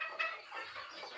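Chickens clucking softly at a small home farm, a few quiet, overlapping clucks and murmurs at moderate distance with no talking.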